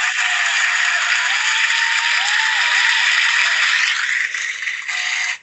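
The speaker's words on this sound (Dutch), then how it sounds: "Dat is het applaus dat je normaal krijgt" Recorded applause played from a sound-effects app, a dense, even burst of many hands clapping at full loudness for about five seconds before cutting off abruptly.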